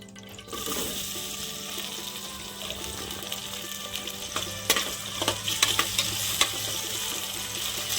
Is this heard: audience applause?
no